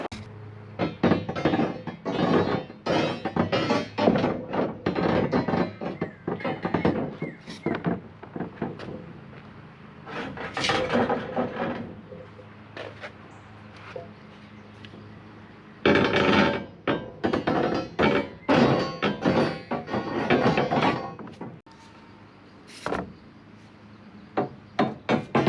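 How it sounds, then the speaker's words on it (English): Vertical steel rebar is set into ICF basement wall forms on a cabin build site, producing bursts of close, irregular knocks, clanks and scraping with short quiet gaps between them. "let's put some vertical rebar in"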